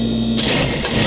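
A sewing machine stitches double piping trim for a custom upholstered ottoman. After a brief quieter moment it starts into a loud, steady, close mechanical whir of rapid stitching.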